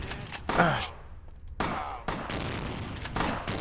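Shotgun blasts ring out in the vampire game Vampire the Masquerade: Bloodlines, five or six sharp, loud reports spaced irregularly over a few seconds with a low rumbling background.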